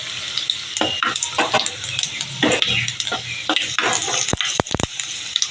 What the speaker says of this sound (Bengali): সেই তেলের মধ্যে আমি জিরে ফোড়ন দেবো